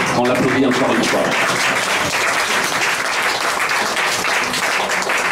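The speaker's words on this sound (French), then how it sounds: "On l'applaudit encore une fois." A live audience applauds a singer after a performance of songs, loud sustained clapping filling the room, with a fading musical tone at the start.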